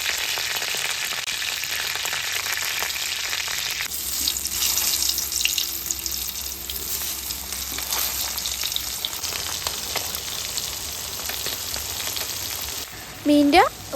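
Fish frying in oil with curry leaves in a pan gives off a continuous bright sizzle with hiss and spatter. Some stirring sounds come through, and a short sharp squeal is heard near the end.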